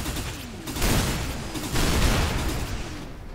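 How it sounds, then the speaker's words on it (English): Explosions in the first-person shooter Hard Reset: loud, dense booming blasts with crackling debris, two big surges about a second apart over continuous rumbling gunfire-like noise, no talking. "Explosions."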